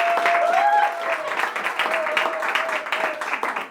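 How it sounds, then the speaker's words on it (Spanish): An audience applauds a musician at an idea-sharing event in Caracas, with steady dense clapping throughout that thins slightly near the end, and a faint tonal whistle-like line running underneath. "les pido que le demos un aplauso otra vez"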